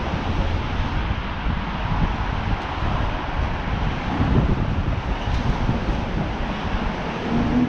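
Wind blowing across a microphone on a walk down Yonge Street, a constant low rumbling buffet that fills the whole stretch with no voices.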